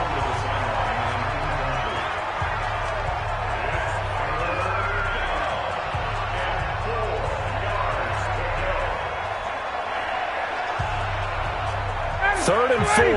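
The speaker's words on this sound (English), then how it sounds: "this crowd urging on their defense. They're up and making noise." Stadium crowd noise from the football video game Madden 20, in a simulated Atlanta Falcons vs Tampa Bay Buccaneers matchup, with fans urging on the defense. A steady, dense roar fills the whole stretch and swells slightly near the end.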